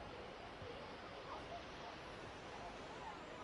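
Ouzoud waterfall in Morocco roars as rushing water in a steady, broad wash of noise, faint and distant, with no clear voices over it.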